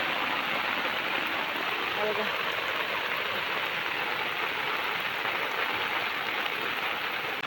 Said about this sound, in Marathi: तिथे पावसाने सुरुवात केलेली आहे